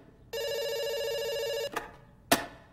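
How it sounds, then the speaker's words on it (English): A telephone ring in the video game Dr Langeskov, The Tiger, and The Terribly Cursed Emerald sounds as a single clean electronic ring tone lasting over a second, followed by two sharp clicks, alone and close. "It's ringing."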